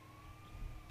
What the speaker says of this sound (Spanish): Ambulancia.